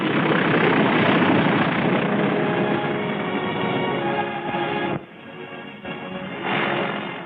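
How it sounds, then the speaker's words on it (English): A WWII-era aircraft roars steadily and loudly as it lands on a freshly built airstrip on Guam in 1944, the engine drone holding strong before dropping briefly and swelling again near the end. "The second one lands 1 minute later."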